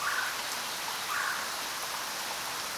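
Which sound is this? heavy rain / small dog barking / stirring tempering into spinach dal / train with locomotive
heavy rain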